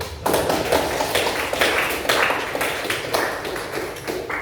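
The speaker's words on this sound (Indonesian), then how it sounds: "Kita beri aplaus terlebih dahulu" Applause for a speaker, a burst of many clapping hands heard as dense, uneven bursts of claps throughout, fairly loud and close, with no speech over it.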